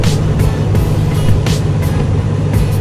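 A car engine running after being started, a loud steady low rumble with a few brief sharper bursts layered over the continuous idle.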